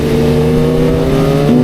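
A motor vehicle engine drones close by on a mountain road, its steady hum rising in pitch near the end as it passes.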